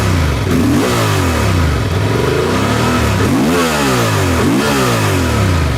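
A Honda Transalp motorcycle on its stock exhaust is revved repeatedly, several loud, close throttle blips rising and falling in pitch over a continuous engine note, with no talking.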